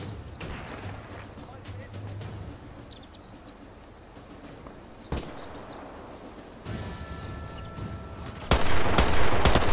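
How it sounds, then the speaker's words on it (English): Rapid machine gun fire in the Sniper Elite VR shooter game, played on an Oculus Rift S: scattered bursts and bangs build into a loud, sustained volley at the end, with a voice talking at times. "try this machine gun."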